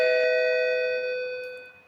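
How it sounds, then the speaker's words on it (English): A doorbell chimes once indoors, a loud clear electronic tone that rings out and slowly fades. "that was their father ringing the doorbell"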